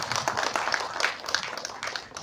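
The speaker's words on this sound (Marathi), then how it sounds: "मच्छिंद्रसाठी टाळ्या होऊ देत पहिल्यांदा" Applause at the Jilebi film press conference for the writer Machhindra: a quiet, steady patter of many hands clapping through the whole stretch, with faint voices mixed in.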